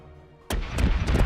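Ship cannons boom in the naval video game Corsairs Legacy, a sudden loud blast followed by a dense, rumbling volley of further shots that keeps the noise level high.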